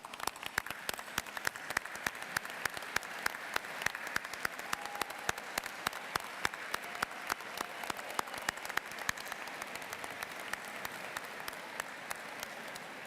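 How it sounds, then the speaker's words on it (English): Steady audience applause at an Auburn graduation ceremony, a dense, sustained patter of many hands clapping at a moderate distance, fairly even in level throughout with no talking over it. "So stand up, we're going to give you an applause."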